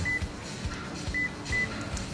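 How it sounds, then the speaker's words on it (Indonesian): A Daihatsu Sigra's smart-key-style remote alarm gives three short high electronic chirps, spaced unevenly, faint over a background of low rumbling noise. "Jadi kedengeran kayak suara alarm yang di smart key kayak gini nih."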